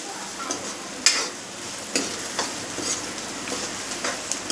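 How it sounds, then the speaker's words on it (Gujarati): A spoon stirs papad curry with fresh coriander in a pan, soft scraping strokes at a steady pace over a quiet simmering sizzle, heard alone. "આપણે તેમાં થોડી કોથમીર એડ કરીશું જે લીલા ધાણા આવે છે તે એડ કરીશું અને ફરીથી તેને હલાવી લેશું"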